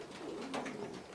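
Pigeons in a pigeon loft, including young birds, give soft low cooing calls against a steady noisy outdoor background, fairly faint and close, with no talk during the brief moment.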